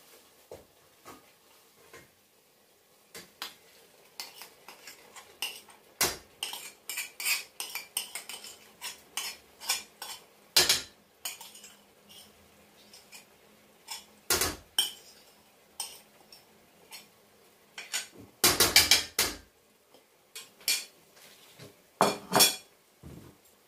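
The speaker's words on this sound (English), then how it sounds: "Now guys, we have to be stirring it till it got dry." Egusi soup with tomatoes being stirred in a pot, a spoon clinking and scraping against the metal in irregular bursts, close and fairly loud, some sharp knocks and a brief rattling flurry, with no talking.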